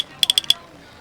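A carrascleta, a traditional Spanish ratchet instrument made of river cane, sounds out in a quick burst of about five sharp, bright rattling clicks, close and fairly loud, followed by quiet.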